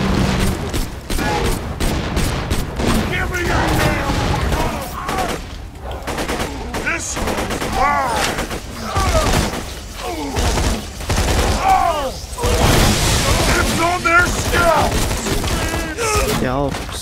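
Sustained gunfire in Borderlands 2, dense bursts of rapid shots and impacts going on continuously at close range with brief lulls, while people talk over the action.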